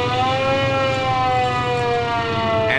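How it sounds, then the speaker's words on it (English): A loud, steady fire engine siren holds a moaning tone that sags slightly in pitch, sounding close and unbroken. "The big engine blew its big moaning siren to tell everyone to get out of the way."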